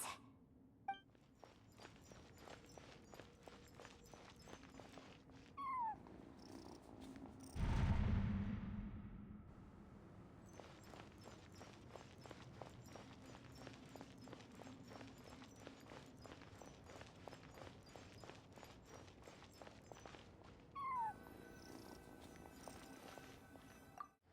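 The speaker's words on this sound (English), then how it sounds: "I followed the cat's cries to find my way out." In a ruins-exploration video game, two faint cat cries ring out several seconds apart over quiet, rhythmic footsteps, with a brief low thud between them.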